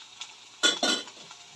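Ground pork dropped into a hot pan with plenty of garlic and onions, producing two short loud sizzling bursts close by, followed by a faint crackle of frying.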